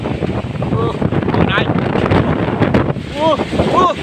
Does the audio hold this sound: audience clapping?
no